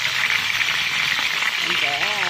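Chicken thighs deep-frying in hot oil give off a steady crackling hiss, with a voice speaking briefly near the end over the sizzle.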